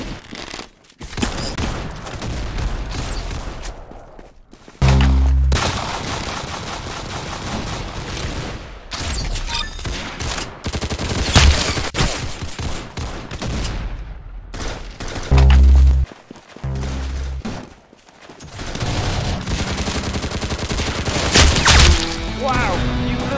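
Rapid bursts of gunfire from the Roblox shooter game Arsenal crackle throughout, with heavy booming hits and a game music bed beneath, loud and dense with brief gaps.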